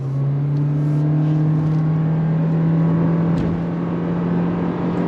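A 2023 Toyota Corolla Cross Hybrid SUV's engine hums steadily from inside the cabin, its pitch rising gradually as the vehicle accelerates on throttle, with constant road and motor noise.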